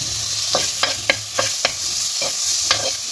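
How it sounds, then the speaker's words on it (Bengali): Chopped tomato and a little salt fry in a pan with fried onions for sarson ka saag, giving a steady sizzle broken by repeated spatula scrapes and taps. "এবার আমি এতে টমেটো কুচি দিয়ে দেবো অল্প, আর দিয়ে দেবো অল্প নুন।"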